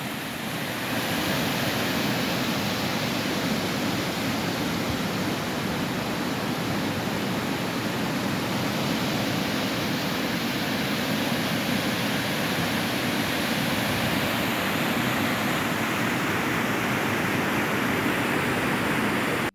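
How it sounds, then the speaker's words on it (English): Water pours over the Kouga Dam in a dense, unbroken roar, loud and constant like heavy surf, with no voices and no letup across the whole stretch. "Hier gaat nou water af."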